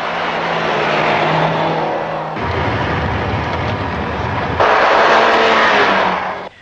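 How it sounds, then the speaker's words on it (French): A car lapping a circuit on a frozen lake during tyre comparison tests, engine roaring steadily up close with shifts in pitch as it accelerates, loud and continuous across the whole stretch. "se livrer à des essais comparatifs sur glace au long d'un circuit établi à la surface d'un lac gelé"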